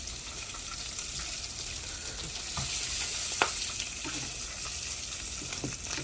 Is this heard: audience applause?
no